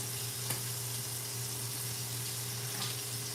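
Food searing in a hot pan during meal prep, a steady close sizzle running the whole time with a faint tick near the start.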